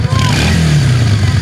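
A motorcycle engine revs loud and close, a steady mid-pitched roar held throughout, with a faint voice underneath, at an outdoor bike show.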